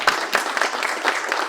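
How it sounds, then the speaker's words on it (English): Brief burst of audience applause for sponsors at the opening of the 2025 Create the Future Design Contest, a dense patter of many hands at moderate level with no talk over it. "please join me in a round of applause for all our sponsors one more time"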